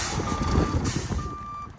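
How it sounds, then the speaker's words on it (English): A sand and salt truck spreading a salt-sand mix on city roads in winter sounds steady reversing beeps, long tones repeating over a loud rumbling engine and traffic noise. "Those big trucks you see around town are laying a salt-sand mixture to make that happen."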